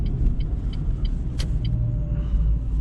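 A car engine runs steadily through a night drive in an old town, a low continuous rumble of engine and road noise with a few faint ticking clicks, no voices.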